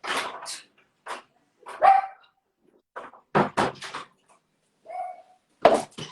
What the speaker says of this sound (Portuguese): a cachorra resolveu latir agora, nesse momento